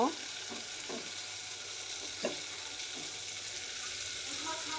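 Steady crackling sizzle of whole spices frying in hot oil, close up, with a few soft scraping stirs along the way.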